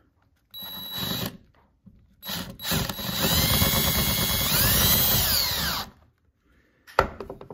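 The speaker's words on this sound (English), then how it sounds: "We get the screw ready and we drill it into place." A power drill drives a screw into a metal mounting plate in bursts: a short whir, then a longer sustained whine rising in pitch before stopping, with a brief knock afterward.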